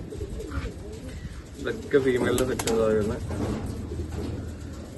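Fancy satin-type pigeons coo in soft, throaty bursts nearby, with a louder stretch midway, while someone talks over them throughout.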